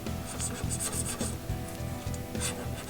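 Steady rhythmic rasping of a 60 HRC hardness test file scratched back and forth across a chop saw blade, close and continuous with repeated strokes, with no voices.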